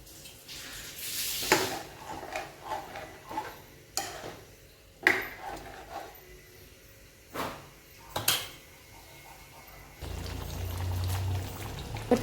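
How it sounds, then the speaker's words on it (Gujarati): Water pours steadily into a pan of stuffed cabbage curry near the end, after a few scattered knocks and clinks of kitchen utensils. "ઉપરથી થોડું એવું પાછું પાણી નાખીશું અને સારી રીતે મિક્સ કરી દઈશું"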